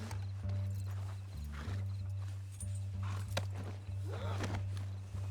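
Horse hooves clop at a slow walking pace in the video game Red Dead Redemption 2, over a steady low hum, with occasional faint voices and small clatters in the background.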